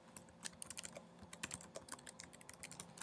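Rapid typing on a computer keyboard while entering a search string into software, with quick irregular key clicks close up and fairly quiet throughout.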